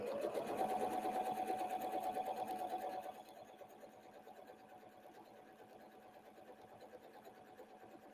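Sewing machine stitching steadily while free motion quilting with rulers, loud and continuous for about three seconds, then dropping to a quieter, slower running hum for the rest.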